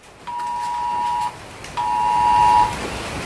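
An alarm sounds in two long steady electronic beeps, each about a second long, loud and close, separated by a short pause, with no talking.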